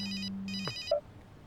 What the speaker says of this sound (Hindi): फोन उठाने वाले हो क्या?